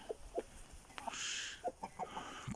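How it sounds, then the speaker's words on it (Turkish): Aseel chickens cluck in short, separate bursts while dust bathing in dry soil, fairly close, with a brief higher-pitched rasping stretch partway through. "Tavuklarımıza bakın arkadaşlar dizilmişler şöyle"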